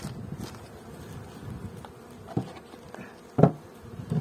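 Honey bees hum around hives at a Ukrainian apiary with colony splits and Buckfast queens, a low steady buzz with a couple of sharp wooden knocks near the end and no voices.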